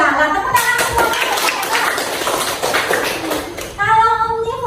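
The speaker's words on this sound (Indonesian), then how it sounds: "tepuk tangan semuanya" A class of students applauds together in a classroom, a dense burst of hand claps lasting about three seconds. Voices can be heard just before the clapping and again right after it fades.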